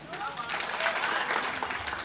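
An audience at a Hindi poetry recital for Hindi Diwas 2019 applauds, producing a short, even wash of clapping that sounds fairly distant and muted throughout.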